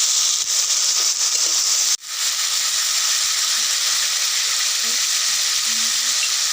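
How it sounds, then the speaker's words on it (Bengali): Banana flower curry with turmeric being sautéed in a pan with a splash of water, giving a steady, close hiss of sizzling throughout that briefly drops out near the two-second mark, with no voices. "একটু করে জল দিয়ে কষিয়ে নেব।"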